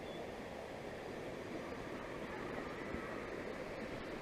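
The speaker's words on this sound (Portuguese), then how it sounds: "Só o barulho da cachoeira." A waterfall roars as a steady, faint wash of rushing water, an even broadband hiss with no break.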